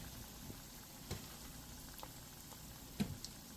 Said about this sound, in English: got some nice bubbling there.